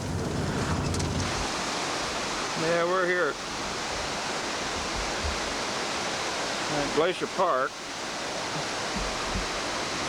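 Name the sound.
creek flowing over rock, Glacier Park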